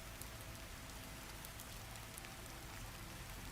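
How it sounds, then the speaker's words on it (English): Steady rain falls in an even, quiet hiss of countless drops, soft and unbroken, with faint scattered taps on a surface. "let the steady rhythm of the rain guide you gently into the story"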